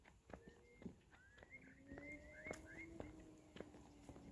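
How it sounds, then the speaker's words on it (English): Cattle graze on pasture on a calm, cool early-summer evening, with soft distant moos and rustling steps heard faintly against a quiet outdoor background. "cows, there we go, just eating the grass on this calm, again cool early summer's evening"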